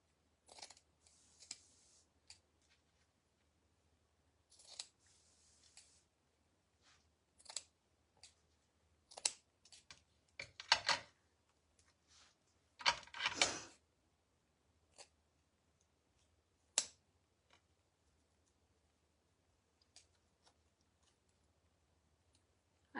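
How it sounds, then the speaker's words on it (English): Scissors snipping lace on a glass cutting board, heard as a string of short sharp clicks and crisp cuts, sometimes alone and sometimes in quick bursts, close and fairly quiet, with brief taps as the blades are set down on glass. "I'm just going to angle cut this lace too."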